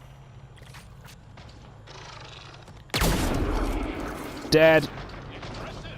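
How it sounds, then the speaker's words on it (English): A single loud sniper-rifle blast from the Isharay in Mass Effect: Andromeda cracks out and rolls into a long decaying boom, followed by a short sharp metallic burst, with quiet game ambience and a brief spoken word. "my other weapon recommendation of the day is this little beauty, the Ishare sniper rifle"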